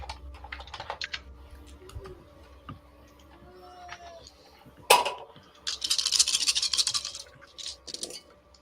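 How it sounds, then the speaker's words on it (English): A large handful of around a hundred dice is rolled, a sharp knock followed by a dense rattling clatter that tumbles for a couple of seconds before trailing off, with lighter ticking and tapping before it. "Is that 100 dice I'm hearing?"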